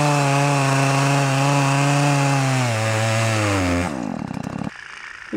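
A chainsaw revs loud and steady close by, its pitch dropping as it bites into wood, then sputters down near the end.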